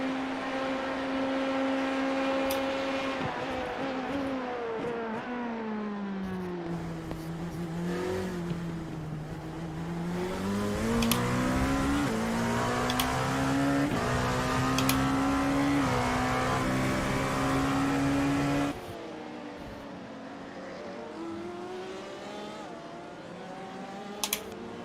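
GTE race car at Spa-Francorchamps heard from onboard through the Bus Stop chicane, engine note falling and rising as it brakes, downshifts and accelerates hard, then easing off into a quieter drone near the end.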